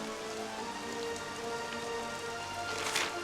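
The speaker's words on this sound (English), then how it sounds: "I was hoping it wasn't raining so I could see where to go." Steady rain falls in the Dragon Quest XI video game, a constant hiss of drops on surfaces under soft background music, with no one talking.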